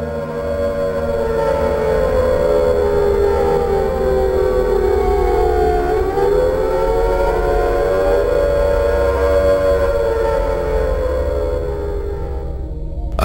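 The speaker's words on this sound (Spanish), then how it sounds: "Ese sonido de sirena desconcertaba la primera vez que lo oías." Air raid siren from the Silent Hill video game, a loud, sustained wail that holds, dips and rises again for about thirteen seconds, with nothing else heard.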